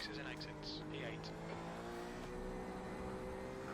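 A race car engine in the video game iRacing, at Autódromo José Carlos Pace, roars and revs steadily, with short squeals over it, and a voice talks briefly near the start.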